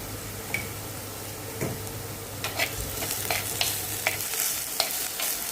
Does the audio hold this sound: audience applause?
no